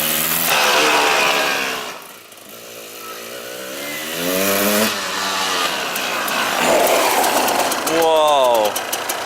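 A rebuilt KTM 200 motorcycle engine revs hard and loud, the two-stroke note rising and falling through several sweeps with a brief dip in between, and voices come through under the engine.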